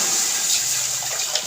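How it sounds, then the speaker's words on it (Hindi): Water pouring steadily into a pot on a stove while preparing biryani, a continuous close splashing rush with no gaps. "बिस्मिल्लाह करके पानी ऐड करते हैं।"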